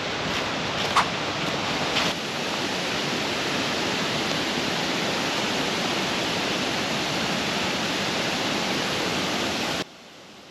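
A river rushes and splashes steadily nearby, a broad continuous water roar close to the microphone with a faint brush of wind, running unbroken for about ten seconds before cutting off abruptly near the end.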